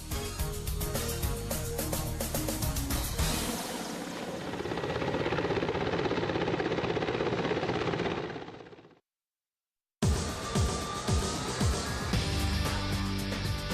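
An Mi-35 attack helicopter flies with a steady rotor chop and turbine whine, loud and sustained, fading out then cutting to silence before the rotor noise returns again.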